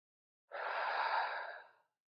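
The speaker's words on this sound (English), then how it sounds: "take a nice breath in and out here" A single slow, audible breath drawn in and let out during a gentle strength class cool-down, soft and close, alone with no talking.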